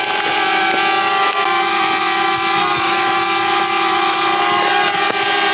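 A DJI Spark drone hovers close by, its rotors producing a loud, steady high-pitched whine with stacked tonal harmonics that holds evenly without a break.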